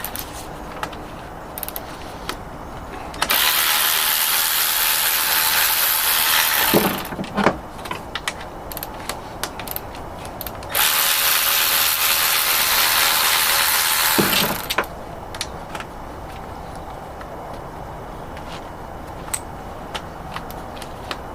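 Work on the timing belt tensioner of a 2004 Volkswagen Jetta TDI: two long bursts of bright, hissing tool whirring as its three bolts come out, with metallic clicks, clinks and rattles of parts between them.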